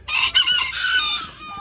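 A Valdivia-type gamecock rooster crows once, close and loud, in a long strained cock-a-doodle-doo at a breeding farm, alone without voices.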